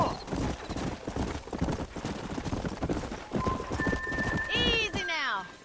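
Hooves of a galloping horse in Red Dead Redemption pound in a quick, rhythmic clip-clop, and a rider calls out over them before the horse lets out a loud whinny at the end.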